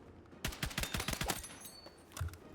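Rapid hip-fire bursts from a long-range gun in Battlefield 6, a quick rhythmic string of about a dozen sharp shots close up, followed by a brief pause and one last dull thump.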